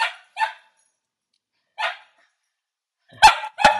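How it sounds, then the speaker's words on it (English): A dog barks beside someone indoors in five sharp, separate barks, two close together at the start, one alone in the middle, and two louder ones near the end, with no talking in between. "my dog is at my side barking"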